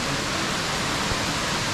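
A tall waterfall on Tai Shing Stream, a Hong Kong mountain stream, pours with a steady, close roar of falling water and no other sounds.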